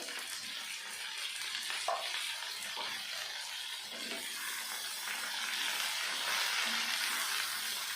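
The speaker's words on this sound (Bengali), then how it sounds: "এটাকে আমি ভালো করে নেড়ে চেড়ে দেবো" Soft, steady sizzle with light scraping as ridge gourd and potato are stirred in a pan, a low continuous frying hiss close by with occasional spoon scrapes.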